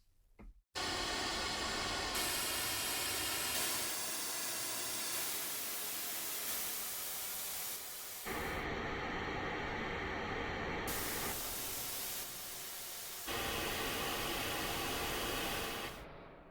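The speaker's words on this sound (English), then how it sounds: "and then finally we have white noise." Steady broadband white noise fills the whole stretch at a constant loud level, its character shifting slightly in tone between sections, with no voices.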